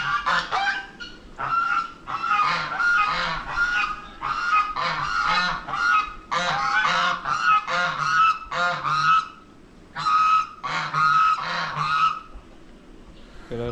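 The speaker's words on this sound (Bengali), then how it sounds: "রাজহাঁস" Domestic geese honk loudly and close by in repeated bursts of overlapping calls, with short pauses between them and no talking.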